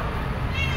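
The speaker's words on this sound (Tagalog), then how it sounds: "Napakabait na pusa." A cat gives a single short, close meow in a home setting.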